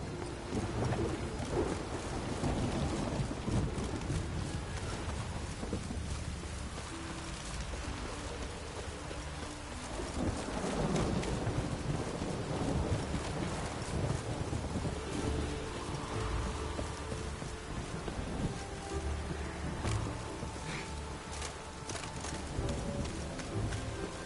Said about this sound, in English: Storm, damn it.